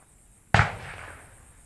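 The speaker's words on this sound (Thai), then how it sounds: "จะมีการจุดประทัดจุดพลุกัน เนาะเสียงดงดัง" A single sharp firecracker bang bursts at a Loy Krathong festival night, loud and close, followed by a decaying echo that trails off over a quiet background.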